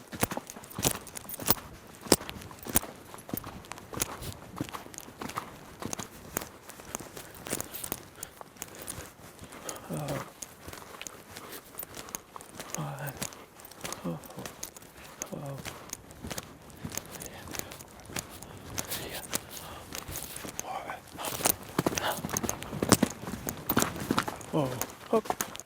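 A horse works a cross-country combination with a drop fence, its hooves drumming in a steady rhythm of close, repeated strides over ground, while a rider talks over the sound.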